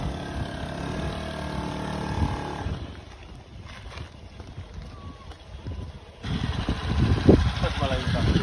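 A motorcycle engine runs steadily nearby, dipping quieter midway before rising louder again, with a person talking over it.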